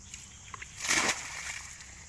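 Water is poured onto dug-up soil material for gold sifting in a brief splash and slosh, rising and fading over a second or so against a quiet background.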